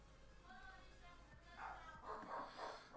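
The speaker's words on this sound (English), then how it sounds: "Please excuse the dogs in the background." Dogs bark and yelp in the background of a home, with a few bursts in the second half, faint and somewhat distant.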